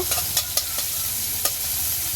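Crushed garlic, dried red chilies and a bay leaf sizzle in hot oil in a wok over a clay stove, a steady close frying hiss broken by a few sharp stirring scrapes.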